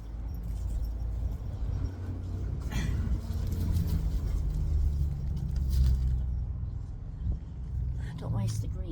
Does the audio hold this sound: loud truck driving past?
yes